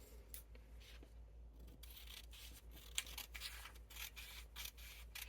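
Scissors cut through a fabric pattern for a high round back, producing quiet, close snipping and rubbing strokes in an irregular rhythm, with no talking.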